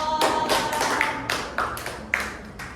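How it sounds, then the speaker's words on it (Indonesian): A classroom group claps for a student during a microteaching lesson, a short burst of scattered hand claps and taps at moderate distance, irregular and overlapping. "tepuk tangan buat Nurul"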